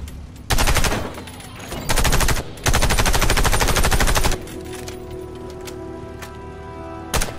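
Weapon fire in the shooter game Warface during its training stage, loud rapid automatic bursts in three separate volleys, then a quieter stretch and one final short shot.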